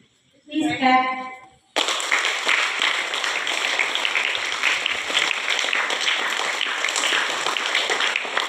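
Students clap together to welcome a new student to the class, a dense burst of applause that holds steadily for several seconds. A short loud voice comes right before the clapping starts.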